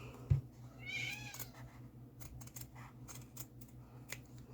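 A house cat lets out one clear, drawn-out meow at close range, then a scatter of soft tapping and snipping while fabric pieces for a flat soft toy are cut out. There is no talking.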